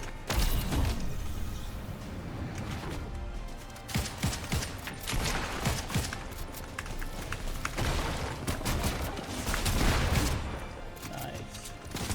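Fortnite gunfire rattles in dense, rapid bursts with scattered impact and mechanism sounds, filling the mix almost continuously with only short lulls.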